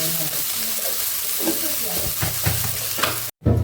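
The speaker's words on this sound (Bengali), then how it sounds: "আদা রসুন বাটা দিয়ে একটু ভেজে নিচ্ছি" Ginger-garlic paste frying in hot oil gives a steady sizzle with scraping stir strokes and a few knocks of a spoon against the pan, close and moderately loud, broken by a brief gap near the end.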